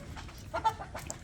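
A single chicken gives a few short, mid-pitched clucks close by, with faint farmyard background and no talking.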